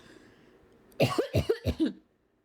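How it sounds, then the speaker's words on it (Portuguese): A short burst of four or five coughs in quick succession, close and fairly loud, after a quiet moment, then silence. "Minha garganta tá incomodando, vou tossir algumas vezes"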